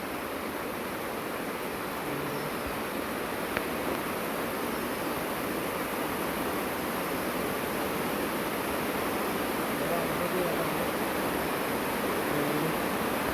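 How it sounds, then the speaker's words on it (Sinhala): Steady rain falls over a chilli farm, a broad even hiss of drops that holds constant from start to finish, with no talking. "දැන් ඔන්න ආපහු මෙහාට වැස්ස පටන් ගත්තා"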